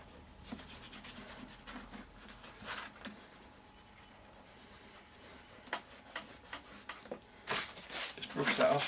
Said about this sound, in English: it's easier for me to actually rub all the excess out